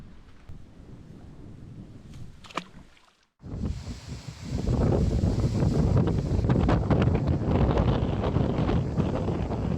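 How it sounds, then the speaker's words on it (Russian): Strong gusting storm wind at a forest lake buffets the microphone in dense low roars, briefly dropping away before returning louder and steadier outdoors. "Штормовой ветер затянул небо серой хворью, нагнав монотонный дождь и холод."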